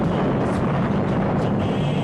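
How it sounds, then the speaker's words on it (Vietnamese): Gunfire opening the Ho Chi Minh campaign near Saigon in late April: a dense, rumbling roll of artillery-like blasts and bursts, loud and unbroken for about two seconds with no voices. "tiếng súng mở màn chiến dịch Hồ Chí Minh vang lên"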